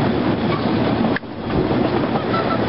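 Train rolling steadily along the rails with a continuous near rumble and clatter, a brief dip in the noise partway through, no voices.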